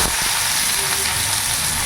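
Onion drops into hot oil with fried cumin seeds for Bengali fried rice, giving a loud, steady, close sizzle with no pauses.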